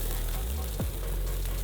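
Meatballs sizzle on a grill while being turned, a dense, steady hiss and crackle heard close with a brief low scrape partway through and no voices.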